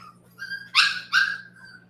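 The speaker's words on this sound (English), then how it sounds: "You guys enjoy the little puppy yelps." Small puppies yelp twice in quick succession, short high-pitched cries that stand out loudly and close against a faint steady hum, with softer whimpering before and after.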